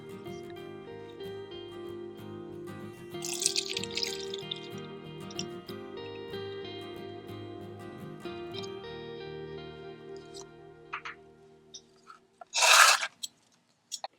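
Thick, gel-like tuna cactus liquid strained and dripping, a long sticky trickle with wet crackles and scattered drops, ending in a louder splashing burst near the close.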